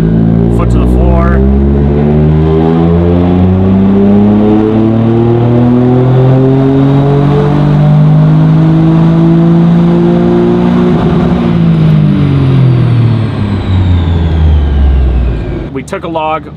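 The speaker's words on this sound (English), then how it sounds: "Foot to the floor." A Toyota GR Corolla accelerates hard at full throttle, its engine note climbing steadily for about fifteen seconds during a tuning pull, loud and close throughout, then easing off at the end.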